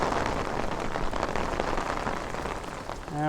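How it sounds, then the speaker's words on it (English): Rain falls hard on a Brooklyn street in Bay Ridge during a storm, making a steady, dense hiss with scattered drops heard up close, and no voices over it. "the storm, well, at least the rain part of the storm has arrived"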